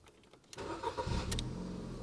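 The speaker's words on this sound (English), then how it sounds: "Literally started the first turn of the key." A Ford car engine cranks briefly and catches on the first turn of the key, then settles into a steady idle, recorded close and quiet.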